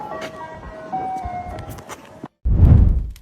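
Ice cream truck jingle, a short tinkling melodic tune heard briefly against background noise, cut off abruptly by a moment of silence and then a loud low rumbling burst.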